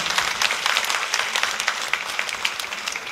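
A church congregation at a Sunday service applauds a brother coming forward to lead the second service, a dense, steady clapping with no talk.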